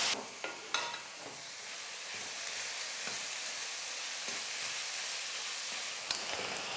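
Onions, green chillies and curry leaves fry in hot oil in a pan, a steady close sizzle and hiss with a few soft stirring knocks near the start.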